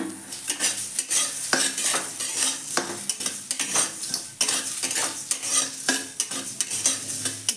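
Food frying and being stirred in a pan, a continuous sizzle broken by frequent close scraping and clinking strokes of a utensil against the pan, with no voices.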